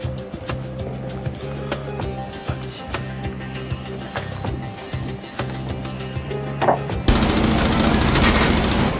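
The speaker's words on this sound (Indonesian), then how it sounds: "Diorang ada tembak, diorang ada tembak" Gunfire in the video game Rainbow Six Siege: rapid, sharp shots crack in bursts over a humming low drone, then give way to a louder, dense wash of noise near the end.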